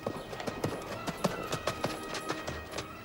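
Horse hooves clip-clop steadily during a ride, a quick rhythmic series of close, crisp hoof strikes over faint background noise.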